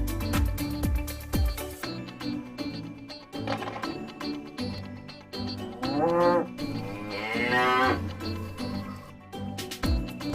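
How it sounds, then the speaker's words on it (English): A cow moos in long, low, drawn-out calls that rise in pitch near the end, set against a bouncy children's music track with a steady beat. "Cow."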